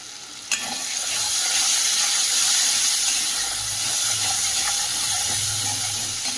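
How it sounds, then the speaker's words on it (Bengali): Spice paste with turmeric and Kashmiri chili powder frying in a pan, a dense, steady hiss and sizzle with one brief clink near the start, close up and without voices. "মশলাটাকে ভালোভাবে কষিয়ে নেব দিয়ে দেবো পরিমাণ মতো হলুদ গুঁড়ো রঙের জন্য কাশ্মীরি লঙ্কার গুঁড়ো"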